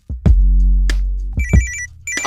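A telephone rings in short electronic bursts over a loud, booming beat, with the ring tones sitting high above heavy low drums and no talking.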